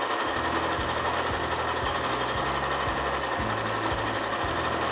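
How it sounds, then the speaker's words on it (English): A sewing machine quilts stitch lines through fabric squares and foam on a patchwork bag, running loud, close and steady with a fast mechanical chatter throughout. "I'm going to continue and sew 2 stitch lines, one on each side of every seam"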